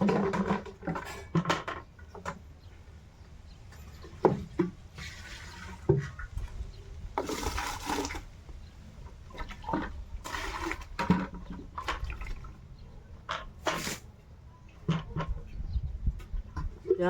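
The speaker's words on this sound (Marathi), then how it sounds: "टिपाडातलं पाणी काढून घ्यायला" Water being scooped and drawn out of a storage drum with a pot or bucket, with intermittent splashes, pouring and clatter in irregular bursts, close by, with no talk.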